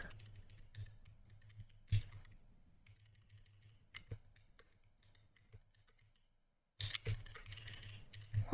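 Quiet typing on a computer keyboard during a programming session, irregular soft clicks and taps in short bursts with a brief silent gap before a denser flurry of keystrokes.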